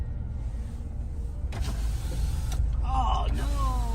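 A car's power window motor whirs as the window lowers, with a creaking start and a steady mechanical hum, followed by faint bird calls from outside near the end.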